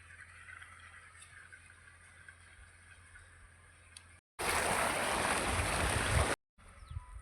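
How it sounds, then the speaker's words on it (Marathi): A motor-driven pump sends water gushing into a wheat field; a loud, steady rush of flowing water fills about two seconds in the middle, with quieter outdoor ambience before and after. "मोटर चालू करून दिली रोपामध्ये पाणी चालू आहे बघा"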